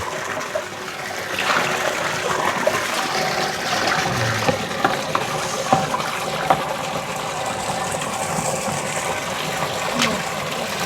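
Warm water runs and splashes steadily during bathing, a loud continuous gushing close by with scattered drips and knocks, with no talk over it.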